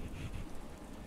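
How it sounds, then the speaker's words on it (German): Steady rain falls in a video game as a soft, continuous wash of noise, with a faint low rumble near the start and no talking. "Und warum fängt das in diesem scheiß Game dauernd an zu regnen?"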